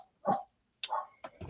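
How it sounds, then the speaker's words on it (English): A pet dog indoors gives a few short barks and yips in quick succession, close and fairly loud, with brief silences between them. "You might hear a little barking because I've got 3 dogs"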